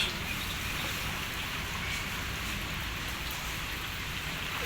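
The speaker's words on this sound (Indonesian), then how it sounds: "Masih gerimis." Light drizzle falling steadily outdoors during garbage collection in Merauke, a soft continuous patter of rain on surfaces with no voices, even and unbroken throughout.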